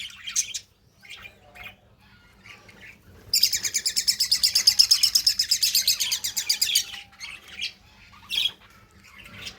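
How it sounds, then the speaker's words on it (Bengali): Lutino and albino pet birds in a cage give a dense burst of rapid, high chirping and squawking lasting a few seconds, with scattered softer single chirps before and after. "আমার পাখিগুলোকে খাঁচায় নিয়ে নিয়েছি সবগুলো পাখি হচ্ছে লুটিনো অ্যালবিনো"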